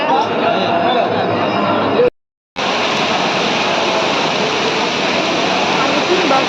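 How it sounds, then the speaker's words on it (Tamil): Heavy rain and rushing water on a hill temple near Alagar Kovil, a loud, steady, dense roar that continues almost without break, cut only by one very brief silent gap. "பயங்கரமான மழைங்க"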